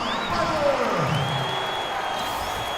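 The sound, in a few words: crowd cheering in a basketball video game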